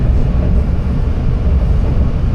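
Loud, steady rumble of a metro train in motion, mostly running underground, a dense low roar with faint rattling throughout and no speech.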